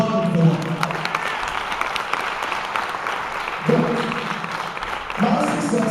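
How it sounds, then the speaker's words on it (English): Applause from an audience swells and fades in waves, with a speaking voice heard intermittently over the clapping. "So applaud them for that."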